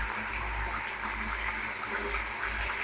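Rinse water from a mixer jar pours into a cooking pan, a steady, close splashing gush that runs without a break; no voices.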